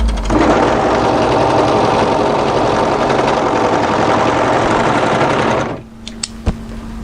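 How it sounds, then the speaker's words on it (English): An overlocker runs steadily for several seconds securing the side seams of a camisole, a loud, close, continuous whirring rattle that stops abruptly, followed by a few faint clicks. "I'm using my overlocker just to secure the side seams"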